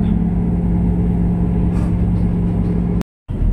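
A ferry's engine drones steadily as it slows before docking on a Mindoro to Manila crossing, a close low hum that cuts out abruptly near the end.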